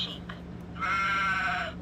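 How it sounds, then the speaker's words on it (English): Electronic sheep bleat from a toy's sound button, a single wavering tone of about a second over a steady low hum, fairly loud and close with no talk. "Sheep."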